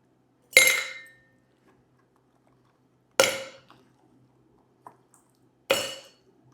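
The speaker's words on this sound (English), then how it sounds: "So I'm adding the ice cubes there." Ice cubes drop into the larger tin of a cocktail shaker while a Mai Tai is being made, three separate sharp metallic clatters with short ringing tails, spaced a few seconds apart in an otherwise quiet room.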